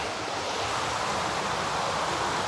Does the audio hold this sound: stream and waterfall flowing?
yes